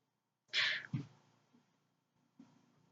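A house cat lets out a short sneeze-like snort followed by a lower grunt, then quiet breathing and a faint second huff, close and isolated.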